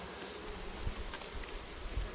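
Honey bees buzzing in a continuous close drone on a homestead, blended with wind-like rustling noise and occasional low thumps, with no talking.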